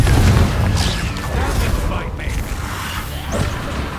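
Confringo fire spell explodes in the Hogwarts Legacy video game, a loud low boom opening the moment and decaying into a rumbling, crackling tail with whooshing game effects.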